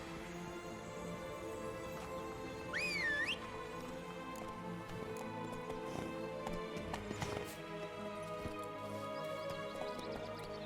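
Hooves of Roach, Geralt's horse in The Witcher 3: Wild Hunt – Blood and Wine, clip-clop steadily at a trot beneath continuous orchestral game music, with a brief whinny-like tone early on.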